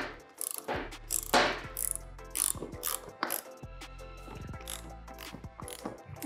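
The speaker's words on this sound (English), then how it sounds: "we'll just tighten the stop nut" A ratchet tool tightens a stop nut on a wheel fitted to a Maker Pipe build, producing close, rapid bursts of clicking pawl ratcheting separated by short pauses and metal handling noises.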